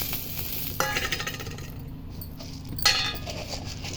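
Peanuts, cumin, cloves, cardamom, cinnamon and coriander seeds dry-roasting in a pan for a drumstick curry masala, with close scraping and stirring strokes, faint rattling of seeds and two sharper clinks against the pan over a steady low background.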